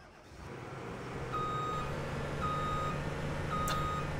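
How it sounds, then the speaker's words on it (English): A combine in the Farming Simulator 2017 video game sounds its full-tank warning, a thin electronic beep repeating about once a second over a steady engine hum that swells early on. "that's a beep and saying, hey, I'm full"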